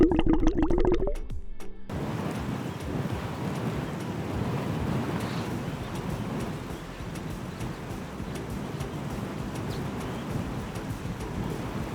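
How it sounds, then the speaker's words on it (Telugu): Wind buffets a small boat among the mangroves at Pedhapatnam near Bantumilli, a steady, dense rushing roar mixed with water noise; a brief tonal call stands out in the first couple of seconds. "ఆ వాటర్ సౌండ్, గాలి సౌండ్, ఆ పక్షుల సౌండ్ తప్ప ఇక వేరేదేం లేదన్నమాట."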